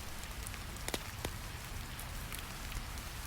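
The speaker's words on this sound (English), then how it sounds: "Rain sounds drift across the hills." Steady rain falls on surfaces in a quiet outdoor grove, a soft continuous patter with occasional distinct drips, faint and unbroken throughout.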